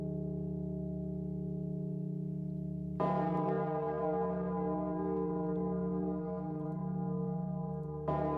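A massive 15,000-kilogram bell in Pathfinder: Wrath of the Righteous tolls loudly, its steady drone rich with overtones. A fresh strike lands partway through, and another hits near the end, each swelling the ringing hum.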